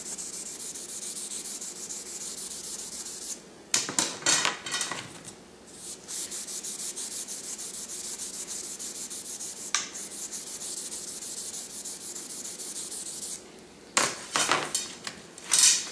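Sustained rasping scrub of a scratch pad rubbed along arrow shafts to clean and rough them, long continuous strokes broken by brief pauses and handling knocks, close and clear with no talk.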